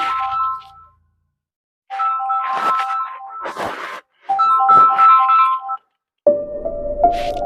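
A mobile phone rings with a loud, repeating electronic tune, playing in bursts separated by brief pauses.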